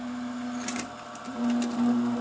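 Bio Bidet 1000W bidet seat running a posterior wash, a steady motorized whine with a spray hiss rising partway through, close and moderately loud with no talking.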